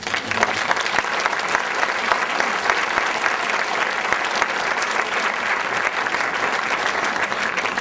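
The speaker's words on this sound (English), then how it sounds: "Thank you for your generous applause." Sustained, even applause from a lecture audience at a children's literature conference, loud and steady throughout with dense clapping and no speech over it.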